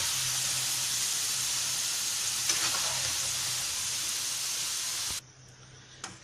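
Potato pieces frying in hot oil in a pan for chilli potatoes, a steady loud crackling sizzle with a soft hiss that cuts away sharply near the end.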